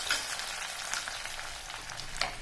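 Onions and curry leaves sauté in a pan for a village-style dry fish gravy, giving a soft, steady sizzle with light stirring, fairly quiet and without speech.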